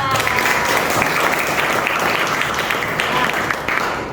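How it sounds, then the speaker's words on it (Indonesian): A classroom of students claps and applauds continuously, loud and dense, tapering slightly at the end. "tepuk tangan buat 94"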